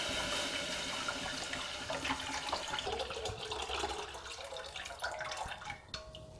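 Water pours and splashes steadily into a cooking pan, about 1 litre, a continuous running gush close by with no talking.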